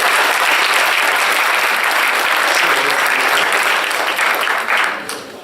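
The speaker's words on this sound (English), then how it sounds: "Round of applause please for Bert for that." A loud, sustained round of audience applause fills a hall at the close of a Research Ed education event, steady throughout before thinning out and fading in the final second.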